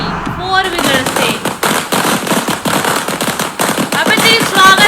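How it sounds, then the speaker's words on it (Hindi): Rapid string of firecrackers bursting in a welcome celebration on a rainy day, a dense crackling barrage of sharp pops lasting throughout, loud and close, with voices talking over it. "तेरी स्वागत के लिए पटाखे फूक रहे हैं वो"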